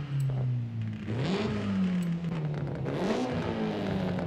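A 1997 Honda Civic Type R engine revs up and down through its exhaust in the video game Forza Horizon 5, rising and falling in pitch in two surges, loud and close with a racing growl.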